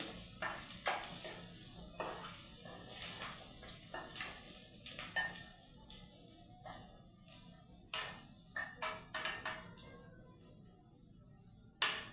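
Onion frying golden in a pan for a rice-based vegetable dish, a quiet steady sizzle broken by repeated clinks and scrapes of a spoon stirring against the pan, with no talking.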